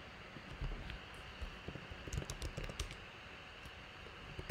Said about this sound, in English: Don't judge my keyboard typing skills.